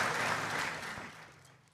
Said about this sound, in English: I think we'll give her a round of applause.